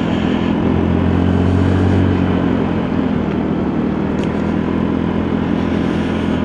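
A Lexmoto Diablo motorcycle runs on a test ride after a rebuild, its engine a steady, loud drone heard up close throughout, with a brief rise in revs early on and wind rush behind it.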